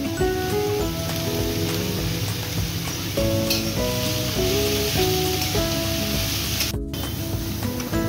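Carrot, capsicum and beetroot sizzle and fry in a pan with a steady hiss, while tonal background music plays throughout.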